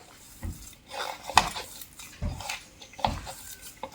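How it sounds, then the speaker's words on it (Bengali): Hands mixing flattened rice with gram flour batter in a bowl, soft intermittent squishing and clinking against the bowl in irregular bursts, with no talking. "এইভাবে হাত দিয়ে ভালো করে কিন্তু মেখে নিতে হবে"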